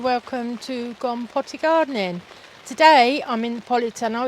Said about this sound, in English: You can hear the rain bouncing off the outside.